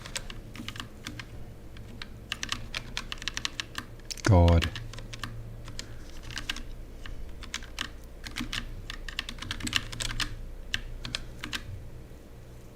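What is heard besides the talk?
typing on a computer keyboard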